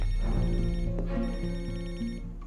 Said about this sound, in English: Answer the phone, sir.